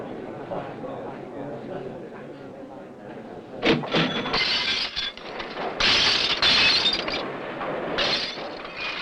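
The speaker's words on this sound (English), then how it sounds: "Recycling glass and tin plate on this conveyor" Glass and tin plate clatter and shatter on a recycling conveyor, with bursts of breaking glass and clinking that swell louder in the second half over a steady mechanical background rumble.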